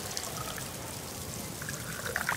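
Water pouring in the farming video game Farmer's Life, a steady, even trickling stream that runs unbroken and fairly loud, with no voices.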